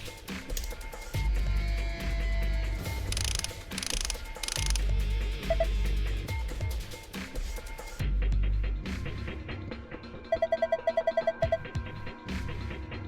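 Bolts being unscrewed with a ratchet in The Nonary Games video game: repeated mechanical clicking and grinding bursts, then a rapid run of ratchet clicks near the end, over game noise, with no talking.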